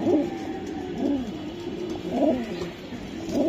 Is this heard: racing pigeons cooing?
yes